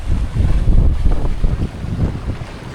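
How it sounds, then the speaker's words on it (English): A sailboat under way with its new code 0 sail set, giving steady close wind buffeting and water rush against the hull, continuous and fairly loud with no voices. "We are sailing."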